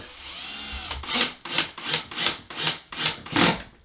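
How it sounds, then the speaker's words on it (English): Six rhythmic, grinding whirs as a drill drives a screw into wood to mount window blind clips, each rising and falling in quick succession at close range. "And now I'll take my screw and I'll just use my drill"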